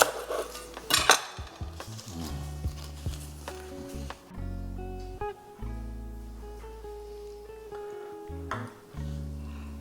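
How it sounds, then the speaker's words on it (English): Crispy cheesesteak egg rolls are sliced on a board, with knife crunches and clatters of cutlery and dishes in an irregular sequence of close, sharp knocks and scrapes, no talking. "and now it's time to cut them up."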